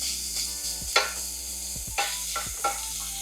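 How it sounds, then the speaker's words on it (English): Bacon dropped into a hot pot for chili, giving a soft continuous sizzle with a few sharp pops and scraping stirs near the pan. "I'm now going to drop the bacon in. And we are just gonna let this cook down."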